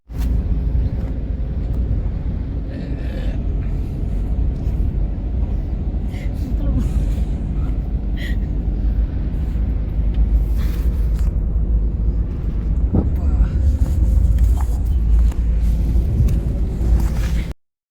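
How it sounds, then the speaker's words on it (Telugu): A bus travels at night, a constant low engine and road rumble droning for the whole stretch with faint rattles on top, while people talk over it. "బస్సు సౌండ్లు అన్నీ వస్తాయి కదా"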